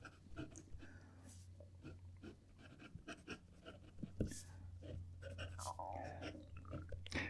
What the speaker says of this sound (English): Let me just scribble off.